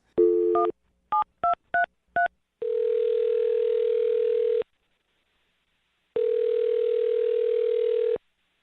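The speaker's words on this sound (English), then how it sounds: "I'm dialing the phone number." A telephone keypad beeps out a number in a quick series of tones, followed by two long, steady ringback tones separated by a pause, clear and close with no voices.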